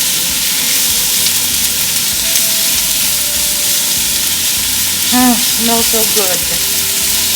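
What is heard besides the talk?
ribeye beef strips frying in a pan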